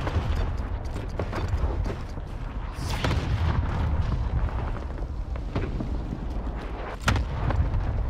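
Enemy cluster strike in the Warzone shooter game, a dense rumbling barrage of booming explosions with sharper blasts breaking through, loud and continuous over several seconds.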